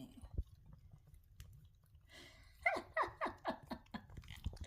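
A puppy eats a pup cup from Freddie's at close range, beginning with quiet rustling and then a quick run of rhythmic, wet chewing and licking bursts through the second half.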